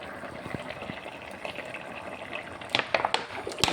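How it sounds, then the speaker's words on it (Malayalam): Cooled boiled water poured into instant mango pickle in a home kitchen, a soft, continuous trickle and splash with a few brighter splashy bursts near the end. "ഇനി നമുക്ക് കുറച്ച് തിളപ്പിച്ചാറിയ വെള്ളം ഒഴിക്കാം."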